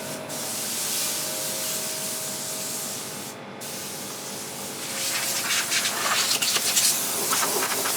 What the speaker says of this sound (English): I'll use that piece of wood to scrape it out.